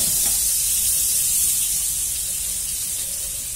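Strips of beef liver frying in a pan, a steady loud broadband sizzle and hiss that continues throughout without pause, close and with no speech over it.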